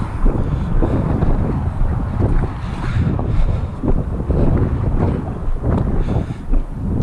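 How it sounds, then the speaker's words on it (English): A strong Baltic wind roars and buffets the microphone outdoors on a pitch-dark night, a loud, continuous rumbling gust with uneven surges and no talking. "that is a Baltic wind"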